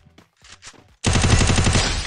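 Sustained rapid automatic gunfire in the Garena Free Fire Clash Squad mode, loud and close, rattling continuously after a short stretch of speech-like game sounds.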